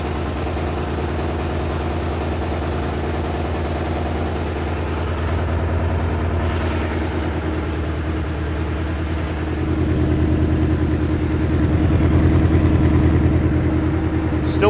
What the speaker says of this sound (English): So that's the first start of this bike in 31 years.